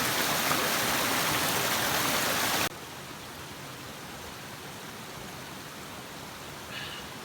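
Steady broadband rush of a flowing stream on a forest trail in Allegheny National Forest, Pennsylvania, loud for the first few seconds, then abruptly quieter and more distant for the rest.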